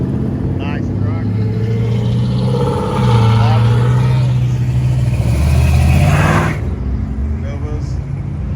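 A truck's engine rumbles past during a car cruise rollout of muscle cars and trucks, a loud, close drive-by that swells and then eases away, with people talking over it.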